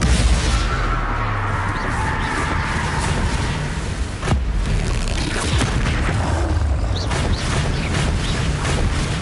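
Spell blasts from Hogwarts Legacy combat, a dense, loud, continuous rumble of booms and crashes with a sharp impact midway and scattered bursts throughout.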